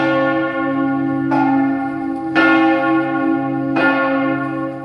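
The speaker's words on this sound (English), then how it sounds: "You can actually see right at the top there, you can see the bell swinging." A swinging church bell in a Padua bell tower rings loud and near, with three strong strikes spaced about a second apart over a sustained ringing hum.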